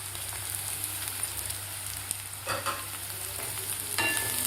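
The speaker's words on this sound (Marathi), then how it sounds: "आता व्यवस्थित आपल्याला खालच्या मसाल्यामध्ये गवार परतून घ्यायचे आहे 1 मिनिटभर" Cluster beans (guar) being sautéed with softened onion in oil, giving a steady close sizzle with scattered crackles and stirring scrapes throughout, and no talking.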